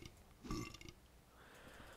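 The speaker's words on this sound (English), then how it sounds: "Yeah, they belch." A Silent Hill 4 enemy lets out a short, loud belch when struck, a single guttural burst lasting about half a second near the middle, followed by fainter low rumbling.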